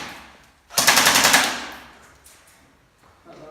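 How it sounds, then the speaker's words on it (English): A short rapid burst of airsoft gunfire, roughly half a second of quick close shots in a tight rhythm, then a fading tail with faint sounds afterward. "Would you like to fire 10 shots?"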